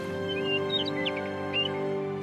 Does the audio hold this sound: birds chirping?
yes